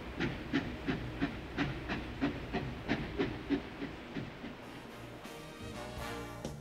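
A freight train hauling loads of treated railroad ties rolls past, its wheels clicking in a steady rhythm over rail joints with a hissing rumble, the clatter easing off toward the end.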